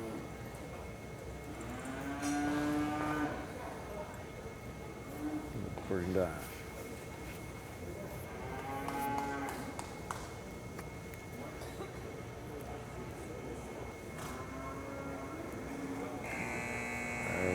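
Cattle at a cutting horse competition low in several drawn-out moos spread through the clip, moderately distant, under steady commentary and a constant background hum from the arena.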